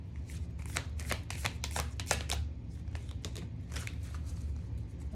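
A deck of tarot cards is shuffled close by, a rapid series of crisp riffling flicks coming in quick bursts, fairly quiet, with no talking.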